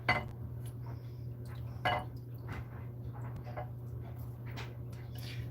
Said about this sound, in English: I'm just using a spoon to kind of drain most of that fluid off of there.